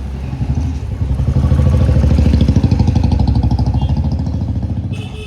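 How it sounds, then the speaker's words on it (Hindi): A motorcycle engine chugs loud and close in a rapid, steady pulsing rhythm amid busy market street traffic, with some clatter around it. "कितना ट्रैफिक है"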